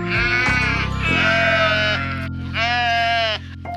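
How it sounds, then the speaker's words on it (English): Sheep bleat on a farm, several loud, wavering calls close by in quick succession, with a steady low hum underneath. "Come to me, sheep!"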